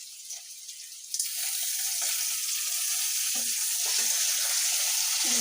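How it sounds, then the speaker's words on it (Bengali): Green chillies and onion frying in a pan on a stove, a loud steady sizzle that jumps up after a second and carries on with scraping and stirring through the rest. "এবার চুলার পরে কাঁচামরিচ আর পেঁয়াজ দিচ্ছি"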